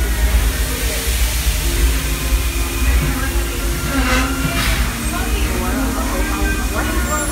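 Walt Disney World Railroad train rolling at night, a steady low rumble and clatter of the moving cars with hissing bursts midway, while an announcement voice plays over it.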